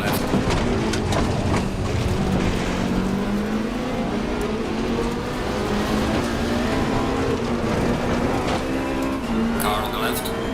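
Race car engines in the Assetto Corsa Competizione sim drone continuously, a steady pitched whine rising and falling slightly as the cars run close together, loud and constant throughout.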